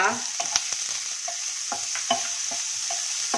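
Onion and green chilli with garlic frying in oil on a low flame, a steady soft sizzle broken by repeated scraping stirs of a spatula.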